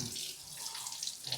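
Raw mango washed under running tap water, a soft, steady splash and trickle into a sink lasting about a second and a half, faint and close with no talk.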